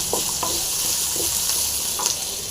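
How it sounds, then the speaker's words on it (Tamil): Ginger, garlic and salt fry in a pan with a steady, close sizzle, broken by a few light clinks of stirring. "இஞ்சி, அடுத்தது பூண்டு, அடுத்தது உப்பு சேர்த்து நல்லா ஃப்ரை பண்ணிக்கலாம்."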